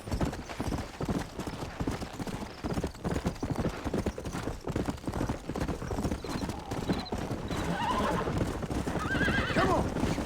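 A horse in the Red Dead Redemption video game gallops with rapid, rhythmic clip-clop hoofbeats, close and loud, and then lets out a whinny near the end.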